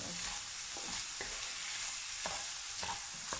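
Onion and garlic sautéing for lasagna, with a constant close sizzle and sharp spoon scrapes against the pan at irregular intervals as the mixture is stirred.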